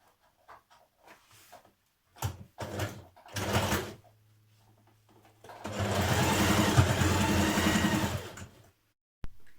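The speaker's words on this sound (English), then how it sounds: "Sew your other pieces of waistband together that haven't got interfacing on." A sewing machine stitching a skirt waistband seam, starting with a few short whirring bursts, then running in a longer steady hum of rapid stitches, close and fairly loud, with clicks of handling in between.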